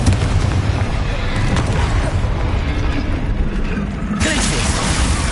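A Confringo explosion spell booms in Hogwarts Legacy, with loud, rumbling blast noise filling the scene, then a sharp fresh burst near the end, while a voice speaks over it.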